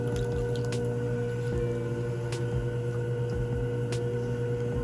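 Wet clay is drawn upward into a tall, vase-like wall on a spinning pottery wheel while throwing a ceramic bowl. A steady motor hum runs throughout, with soft, wet squishing and slapping as hands slide over the clay.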